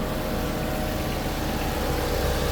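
A 2000s Volkswagen Golf 5 with a 1.6 petrol engine idling smoothly up close, an even low hum with a steady mechanical patter and no talk over it.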